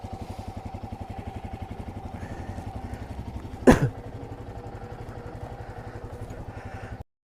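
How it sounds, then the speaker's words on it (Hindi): A motorcycle idles while warming up on a roadside stop near Champawat market in Uttarakhand, a steady rapid low putter close by, with one brief louder clatter midway before the engine cuts off at the end. "तो अभी बाइक हमारी थोड़ी सी गर्म हो रही है"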